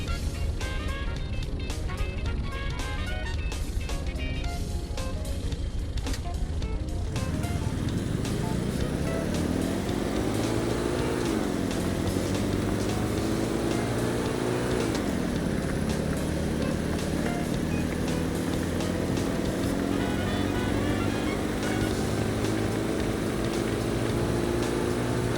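Roblox van in a video game accelerating in fifth gear, a loud continuous engine drone whose pitch rises steadily, dips once at a gear change, then climbs again, with a busy noisy start before the run-up.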